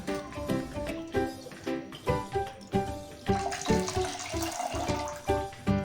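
Water pours steadily into a cooking pan on a stove, one litre at a time, making a continuous splashing, gurgling stream at close range with no voices.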